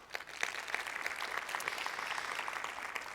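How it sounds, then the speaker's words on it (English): A round of applause from the audience at a FIFA Women's Football Convention session, quiet and somewhat distant, a steady patter of many hands lasting a few seconds. "Another round of applause."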